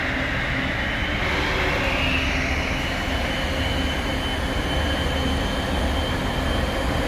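A fresh air handling unit runs after an automatic restart, a loud, steady broadband rushing roar of airflow with a constant mechanical drone, heard close and alone.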